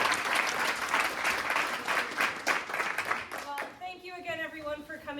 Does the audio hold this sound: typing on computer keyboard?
no